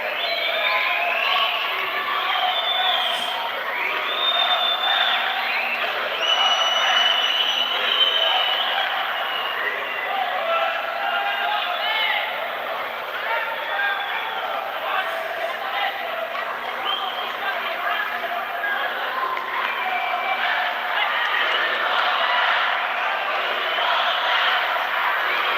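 Spectators at the 2022 World Judo Championships murmur and cheer in a large hall, a continuous crowd din with shouts rising and falling while a commentator talks over it.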